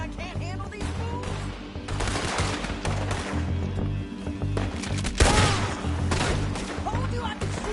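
Gunfire in Red Dead Redemption 2: dense, loud volleys of shots and ricochets go on throughout a Western shootout, with a voice briefly heard among them.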